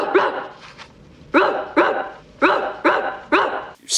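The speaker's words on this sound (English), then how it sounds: "He clearly said woof, woof, woof, woof." A dog barks repeatedly in a movie courtroom scene, five or six sharp, loud barks in an uneven rhythm, close and clear with no talk over them.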